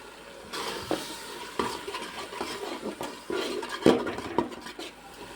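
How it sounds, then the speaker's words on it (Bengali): Ground spices such as coriander, cumin and Kashmiri red chilli powder stir-fried in a pan for a vegetarian dish, with a steady soft sizzle and repeated scraping and stirring clinks from a utensil, close and alone. "সব মশলা দিয়ে কিছুক্ষণ কষিয়ে নেব"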